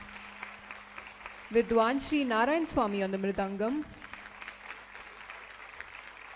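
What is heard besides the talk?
audience applause for the orchestra musicians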